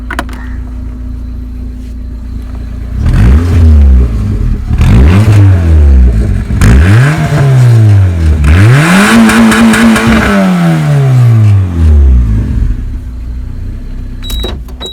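A Maruti Baleno with a custom valvetronic exhaust and no muffler revs up close and loud, about five sharp throttle blips climbing and falling in pitch, the last held longest before settling back to idle.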